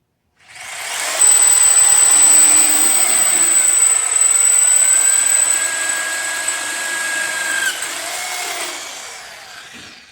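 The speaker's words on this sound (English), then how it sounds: "first time with the new angle drill" New right angle drill boring into a bicycle frame tube to fit bottle bosses, a loud whining motor spinning up and holding steady for several seconds without much push, then gradually winding down.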